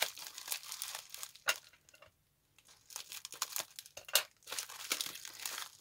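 Bubble wrap packaging for a fragile item crinkles and rustles in close, uneven bursts during unwrapping, with a short quiet pause midway and no talking.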